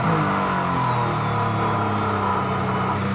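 Mercedes AMG ONE hypercar engine running on track, a dense, loud, steady drone with layered harmonic tones held for a few seconds without talk.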